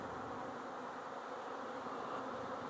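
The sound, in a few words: honey bees buzzing at hive entrance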